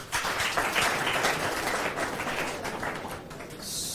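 A school audience in a Swahili class session at Loresho Secondary School claps for a student, steady continuous applause throughout at moderate level with no speech over it.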